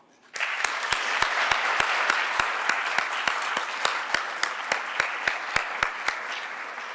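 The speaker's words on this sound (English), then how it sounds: "Please join me in an enthusiastic round of applause for this group of people who have contributed so much" A symposium audience at a law school keynote breaks into sustained applause that starts abruptly and keeps going, with one steady, evenly spaced clap ringing out close to the microphone.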